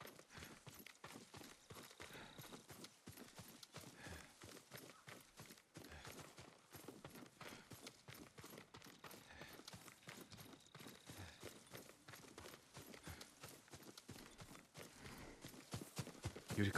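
Steady clip-clop of horse hooves walking at an even pace in the video game Ghost of Tsushima, continuous and moderately close, with faint ambient noise around it.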